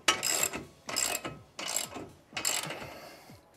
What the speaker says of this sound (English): So now we can proceed to bolt the coilover up and get it assembled.